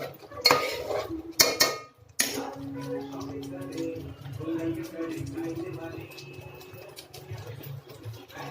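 A metal spoon clanks hard against a pan a few times at first. Softer mixing follows as lemon is stirred into spicy chicken masala, with a faint voice in the background.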